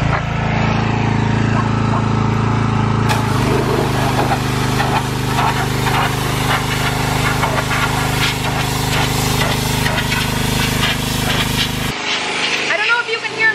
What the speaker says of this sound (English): he got the pressure washer working for me